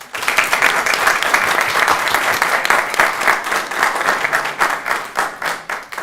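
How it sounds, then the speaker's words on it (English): Audience members at a city council meeting give a round of applause, a loud, close burst of individual claps that holds for several seconds and thins slightly toward the end. "Let's give a round of applause."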